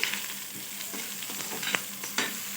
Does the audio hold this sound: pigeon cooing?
no